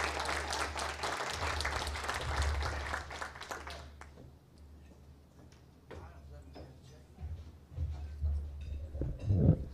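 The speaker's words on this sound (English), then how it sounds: "So let's give Kyle and his company a round of applause for their support." A room of people at a Rotary club meeting applauds, clapping that fades out after about four seconds, followed by quieter rustling, a few taps and faint voices, with a louder knock or bump near the end.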